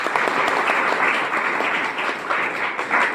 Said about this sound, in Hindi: अपने लिए एक जोरदार तालियां बजा लें।